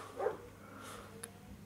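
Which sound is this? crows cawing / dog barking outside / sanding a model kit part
dog barking outside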